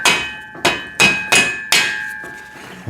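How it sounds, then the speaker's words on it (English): A rubber mallet thumps a part onto a VEVOR pec deck and rear delt home gym machine, six firm blows in quick succession, close and fairly loud with short dull decays. "Rubber mallet I was telling you about before."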